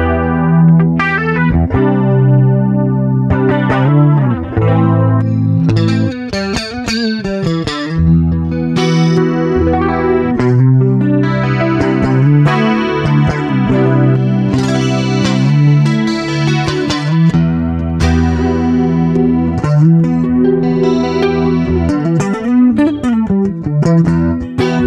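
Electric guitar fitted with Fishman Fluence pickups, switched through all five pickup-selector positions with sparkly coil-split tones; loud, continuous chords and riffs under chorus and distortion effects, with no talking.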